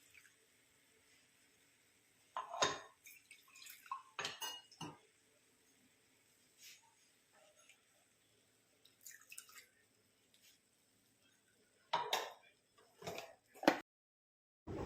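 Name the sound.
water poured into grinder jar, rinsed and poured into pan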